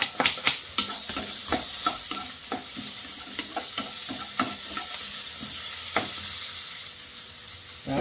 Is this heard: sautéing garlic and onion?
yes